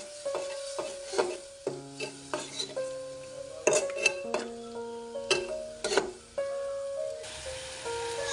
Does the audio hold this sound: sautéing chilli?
yes